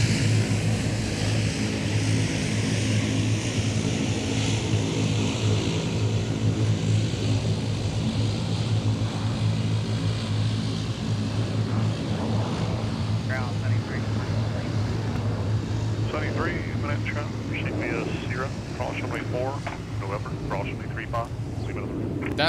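Propeller airliner at MSP airport, a steady loud engine drone that holds throughout, with people talking over it near the end.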